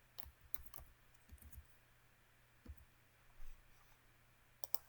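Quiet, irregular clicks of keys being typed on a computer keyboard, in short bursts with pauses between them.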